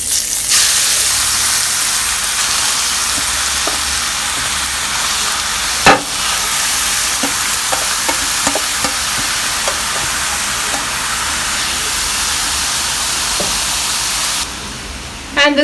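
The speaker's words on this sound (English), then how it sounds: "Meanwhile, my ghee is burning." Hot ghee sizzles steadily in a pan under a loud, constant hiss, with scattered clicks and one sharp knock partway through.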